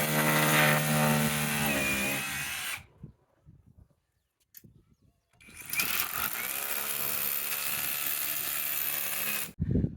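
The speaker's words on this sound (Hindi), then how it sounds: "पीछे करने के बाद हमने दोबारा से बड़े वाले सुराख करने हैं रावल बोल्ट के मुताबिक" A power drill bores large holes for rawl bolts in a solar panel stand, with a loud steady whine for about three seconds, a pause with faint clanks, then a second long drilling run.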